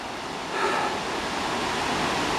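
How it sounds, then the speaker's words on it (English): The Boyana waterfall gives a continuous broad rush of falling water, heard fairly close on a mountain climb and swelling slightly after the first half second, with no voices. "There's some kind of waterfall"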